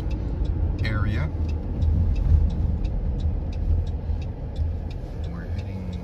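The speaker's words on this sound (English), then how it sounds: "There's a car coming." A car passes on a scenic coastal road near St. Anne's on the route toward North Sydney, its steady engine and tire noise heard from inside a moving vehicle while people talk over it.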